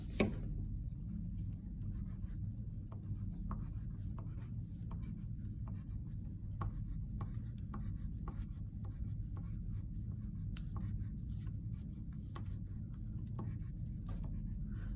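A pen or pencil scratching out small pointy textures on paper, with quick strokes in an irregular rhythm. It sounds close and quiet, with no talking.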